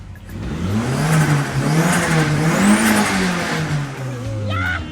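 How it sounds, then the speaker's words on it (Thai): A modified turbocharged car engine revs up and down loudly nearby, the pitch rising and falling through several throttle blips. "ขอฟังเสียงเครื่องนะครับ มาเลย"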